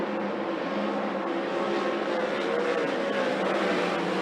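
360 sprint cars racing at Skagit Speedway, a steady loud engine roar from the pack, heard from a distance and holding an even drone with no talk.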